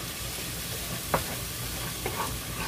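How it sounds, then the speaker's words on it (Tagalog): Burrito filling with a cup of tomato sauce is stirred in a pan over a soft constant sizzle, with a couple of sharp spoon scrapes standing out. "Then mix it together here. Just blend it."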